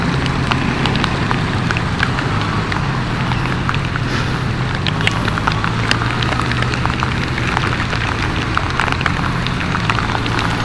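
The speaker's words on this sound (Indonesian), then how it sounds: "Ternyata hujan, dan hujannya lumayan deras" Steady, dense rain hisses without pause, a heavy downpour drumming on surfaces with scattered sharper drop hits throughout.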